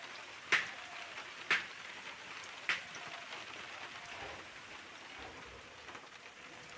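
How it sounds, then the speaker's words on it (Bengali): Heavy rain pours down during a storm that has flooded the street, a soft continuous wash of falling water with a few sharper drips and taps standing out now and then, no voices. "আবার দেখো বন্ধুরা কত বৃষ্টি এখনো হয়ে যাচ্ছে"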